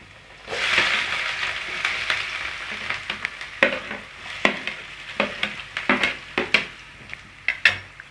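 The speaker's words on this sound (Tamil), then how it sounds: "இப்போ நம்ம பொடிசாக நறுக்கின வெங்காயம் சேர்த்துப்போம்." Finely chopped onions sizzle in a hot pan while a spoon stirs them, scraping and clanking against the metal in irregular knocks over a steady frying hiss.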